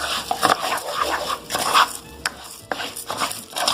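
Rice being fried and stirred in a pan for a Mexican shrimp dish, with steady scraping and stirring strokes and a light sizzle underneath, close and moderately loud, with no talk.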